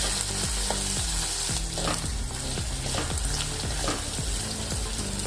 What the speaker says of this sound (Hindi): अभी इसमें अदरक लहसुन का पेस्ट डालेंगे, थोड़ी देर इसको भी भून लेंगे